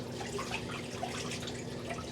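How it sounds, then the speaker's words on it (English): A Magic Chef 1.7 portable washer drains, water running and trickling steadily with faint drips, close by and fairly loud, and no one speaks over it. "Which drains the water out, so it's not like the water is stuck or anything like that"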